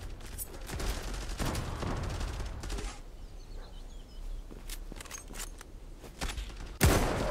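Rapid gunfire rattles in a tactical shooter match, a burst of sharp shots up front, then sparse scattered cracks, ending with a loud close single shot.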